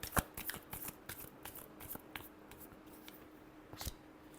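Tarot cards being shuffled by hand, a series of quick crisp riffles and flicks close up, with soft rustling between and a sharper snap near the end.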